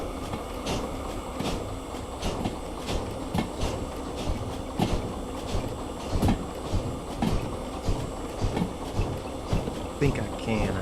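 Steam locomotive in the Derail Valley game pulling away from a stop, rhythmic chuffs coming in regular beats, loud and close over a steady mechanical hiss.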